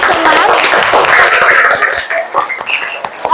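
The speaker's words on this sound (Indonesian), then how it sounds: "Tepuk tangan buat kalian semua." A classroom of students applauds after presentations, a dense burst of clapping that fades into scattered claps.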